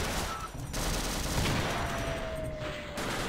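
Automated turret in Half-Life fires a steady dense stream of rapid shots, loud and continuous with brief pauses.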